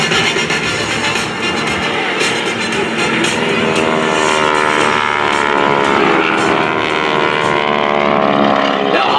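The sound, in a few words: GEICO Skytypers aircraft flying an air show maneuver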